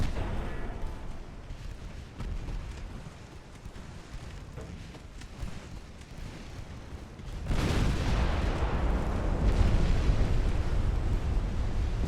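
Naval shells strike enemy battleships in the naval warfare game Ultimate Admiral: Dreadnoughts: a low rumbling of distant gunfire gives way to a sudden loud, sustained roaring blast of impacts near the end.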